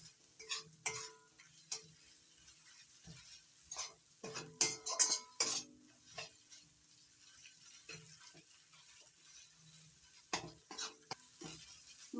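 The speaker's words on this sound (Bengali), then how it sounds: "রসুন দেওয়া আছে তাই অবশ্যই একটু কষিয়ে নিতে হবে, তা না হলে রসুনের কাঁচা গন্ধটা থেকে যাবে।" A spice paste with garlic for pomfret curry is stirred in a pan over low to medium flame, with sporadic scraping and clinking of a utensil against metal, quiet and irregular, with no one talking.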